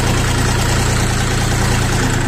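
A Xingtai 24 hp 4x4 mini tractor engine runs with a steady, loud, close diesel drone that does not change throughout.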